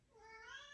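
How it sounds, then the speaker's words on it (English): A house cat gives one faint, drawn-out meow that rises and wavers, heard alone in the background. "I want you to hear my cat in the background."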